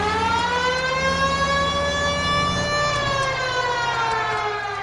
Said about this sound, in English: They don't know to move if the siren's not on